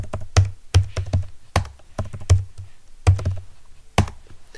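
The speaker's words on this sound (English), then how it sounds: "If I run the same command again and type a longer passphrase" Someone types a passphrase on a computer keyboard: a series of close, crisp key taps in uneven bursts with brief pauses, and no talking.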